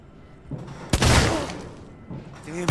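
Gunfire in the video game Alien Isolation: a loud, sharp shot with a crackling tail, then softer bursts, with voices talking over the game audio.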